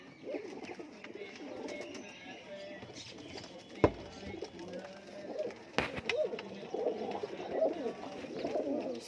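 A loft of fancy Punjabi pigeons in Amritsar coos repeatedly at close range, with overlapping warbling calls, a couple of sharp knocks and brief wing flaps, while someone talks intermittently.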